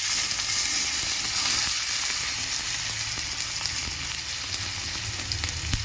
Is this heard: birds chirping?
no